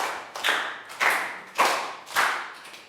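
A class claps hands together in unison, with four sharp, evenly spaced claps about half a second apart in a room, each fading quickly with no talking.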